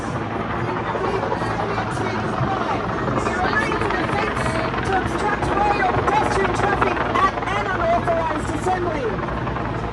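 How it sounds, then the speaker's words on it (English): A helicopter hovers overhead at a street protest in Venezuela solidarity, its loud continuous rotor drone filling the scene while a crowd murmurs and voices speak beneath it. "Won't be able to hear fuck all because of the bloody helicopter."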